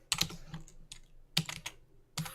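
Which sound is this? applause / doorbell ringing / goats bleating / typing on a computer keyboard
typing on a computer keyboard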